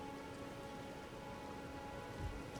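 Steady rainfall patters down in the video game Elden Ring near a mausoleum, a soft even hiss of drops on surfaces throughout with a faint low rumble near the end.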